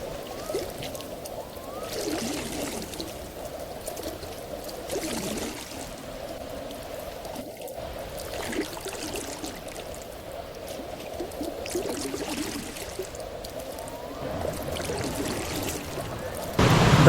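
Waterfalls at Plitvice Lakes in Croatia, a steady broadband rush of falling water that holds an even level throughout, heard from nearby without any talk.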